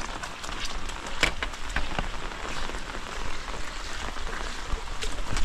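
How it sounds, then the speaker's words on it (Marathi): Steady rain falls outdoors beside an old village house in Konkan, a dense continuous patter of drops on surfaces that stays even throughout with no voices. "छत्री घेऊया, पाऊस आहे."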